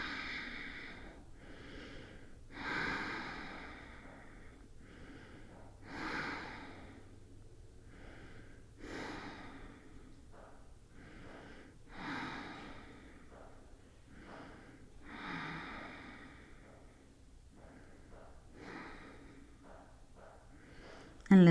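Slow, deep breaths drawn and released during a calming yoga pose, soft and close, repeating in steady cycles of inhale and exhale with quiet gaps between.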